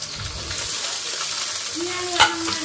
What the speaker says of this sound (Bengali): এটাকে একদম কন্টিনিউ নেড়ে নেড়ে নেড়ে একদম কুড়মুড়ে একদম বানিয়ে নেব।